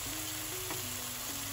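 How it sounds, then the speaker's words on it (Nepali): Ground ginger paste fries in a pan and is stirred, a continuous close sizzle with faint scraping underneath. "अब यसलाई फेरि एकैछिन चलाइकन भुटिरहनुपर्छ"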